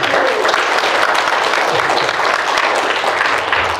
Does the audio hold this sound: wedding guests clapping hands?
yes